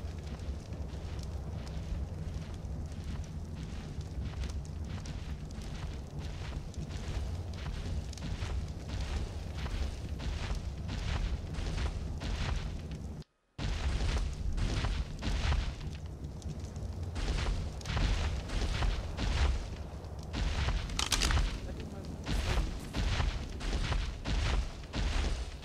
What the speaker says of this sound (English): I'm standing in a fire.